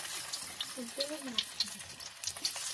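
Food fries in a pan with a faint, steady sizzle and crackle, punctuated by small stirring clicks, while a voice briefly murmurs underneath.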